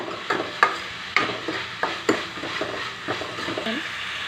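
Chopped tomatoes fry in a pan over a medium flame, a soft sizzle under repeated clinks and scrapes of a spoon stirring against the pan, close and fairly quiet.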